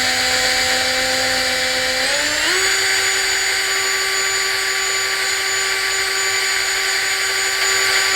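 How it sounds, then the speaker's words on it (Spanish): A handheld drill spins a sanding disc to wear down a part made of material denser than steel. A continuous close whine steps up in pitch after about two seconds, then holds steady with no talking. "Esto lo pillamos así y le damos al taladro."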